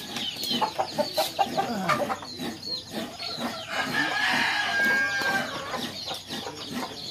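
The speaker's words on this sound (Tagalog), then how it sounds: "Ito yung binili kong manok na malaki." A large chicken bought at a Filipino market clucks in short bursts up close, followed by a longer rising crow-like call, with some background rustling.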